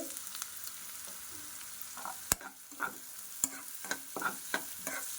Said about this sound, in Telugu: ఇవైతే బాగా వేగాలండి ఆనియన్స్ అయితే